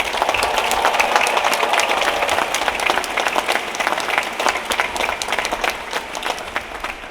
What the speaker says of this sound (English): I think you deserve one last round of applause